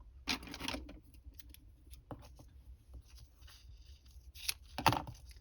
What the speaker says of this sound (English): I'm gonna cut it out like so